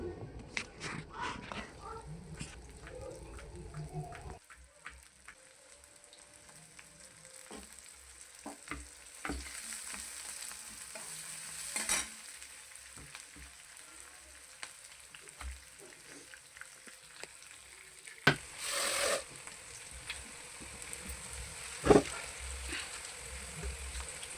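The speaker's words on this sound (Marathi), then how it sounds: "तेलात तडतडायला टाकली होती मी जिरे मोहरी तडतडली की त्यामध्ये टाकलेला आहे मी कांदा" Chopped onion frying in oil with cumin and mustard seeds, a faint steady sizzle with occasional stirring clatter and a few sharp knocks, quiet and close, with brief background voices.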